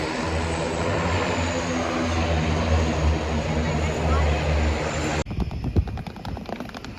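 Airplanes at Vancouver Harbour, likely floatplanes, give a steady loud propeller-engine drone for about five seconds, then cut to quieter street sounds with clattering and brief talk.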